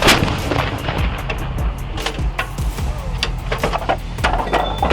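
Artillery fires repeatedly in a series of loud, sharp booms with rumbling tails, each shot following close on the last over a constant background.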